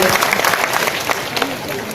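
Loud, close clapping from an audience during a live game-style show, a dense burst over two seconds with crowd murmur mixed in.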